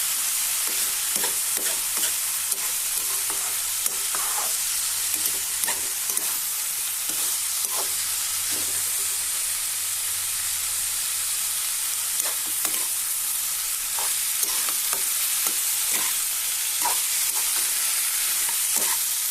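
Dhekia fern and heri greens fry in a pan for an Assamese fish dish, a soft continuous sizzle broken by frequent clicking scrapes of a stirring spatula.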